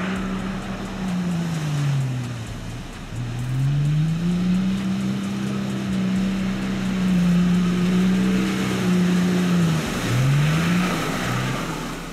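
A Nissan Patrol SUV ploughs through a water obstacle, its engine droning steadily and rising and falling in pitch as it revs, with splashing wash beneath, close and loud, no talk.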